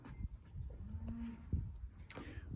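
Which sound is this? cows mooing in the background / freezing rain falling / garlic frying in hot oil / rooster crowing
cows mooing in the background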